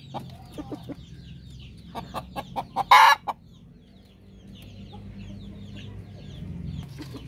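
Hens and a darag rooster on a Filipino poultry setup cluck in a run of short, close calls, with a brief louder squawk burst midway, then quieter background farmyard noise.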